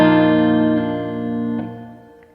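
An electric guitar through a reverb pedal rings out a sustained chord with a second strum, loud and close, the tail fading slowly with a soft wash of reverb.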